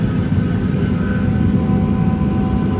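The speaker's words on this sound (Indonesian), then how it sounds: "Ke pesawat American Airlines. Ini pesawatnya." Loud, steady broadband roar of an American Airlines airplane at an airport on an afternoon, a continuous engine drone with faint tonal whine, close and unbroken throughout.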